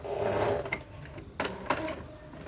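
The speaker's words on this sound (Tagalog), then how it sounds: "So nagsimula na siyang mag-print." A printer starts up and feeds a page, giving a soft mechanical whir broken by several short clicks and clunks of the paper being drawn in, close and moderately loud.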